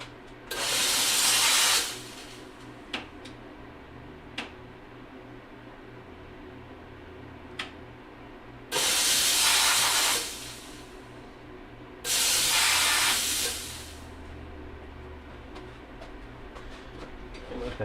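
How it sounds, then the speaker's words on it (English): A jewelry steam cleaner blasts polish debris off a piece in three loud bursts of harsh hiss, each a second or two long, separated by quiet stretches with a few sharp clicks. "Now that I have a steamer up, what I'll do is just very briefly"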